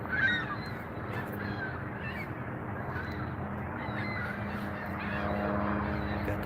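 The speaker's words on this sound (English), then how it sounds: "Looks like the birds are rowdy." Rowdy birds, likely geese, honk repeatedly outdoors at a moderate distance over a constant background rumble.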